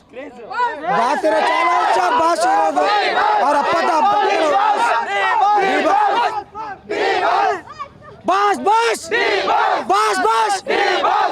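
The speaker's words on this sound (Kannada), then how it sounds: "ದರ್ಶನ್ ಅವರ ಮನೆ ಬಳಿ ಬಂದಿದ್ದೀರಾ ಜೈಕಾರವನ್ನ ಕೂಗ್ತಾ ಇದ್ದೀರಾ" A large crowd of fans shouts and chants slogans outside actor Darshan's house during his birthday celebration, loud rhythmic cheering voices surging in waves with brief lulls.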